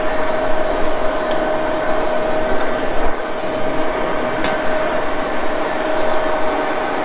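A metal lathe in a Harley-Davidson machine shop running in high gear while machining a crankcase, a loud, steady whirring drone with a constant whine and a few brief ticks.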